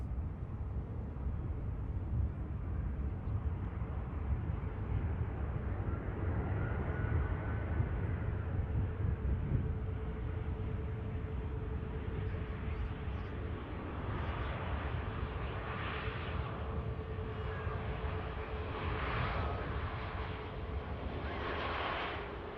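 An airliner taxies and turns off the runway at Manchester Airport, producing a continuous low engine rumble with a thin steady whine that shifts slightly as it turns, with no speech.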